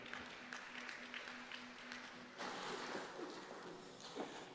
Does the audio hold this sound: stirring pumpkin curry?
no